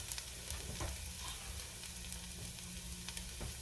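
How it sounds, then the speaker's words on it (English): Onions sweating down in oil in a soup pot for homemade vegetable beef soup give a steady, low sizzle with occasional stirring scrapes, continuous and moderately quiet. "So our onions are done being sweated down."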